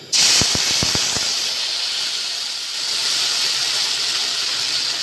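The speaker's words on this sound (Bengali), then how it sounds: "একটু সামান্য জলে গুলে আমি তেলের মধ্যে সর্ষেটা দিয়ে দিলাম।" Ground mustard paste mixed with a little water hits hot oil tempered with nigella seeds and bursts into a loud, sudden sizzle. A few sharp pops follow, then a steady hiss that continues to the end.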